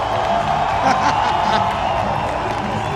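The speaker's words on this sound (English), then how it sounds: "The music is so loud right now, and the crowd is going crazy." Spectators at a men's skateboard bowl final roar and cheer steadily, a loud crowd with scattered whoops and clapping, mixed with music and a commentator's voice.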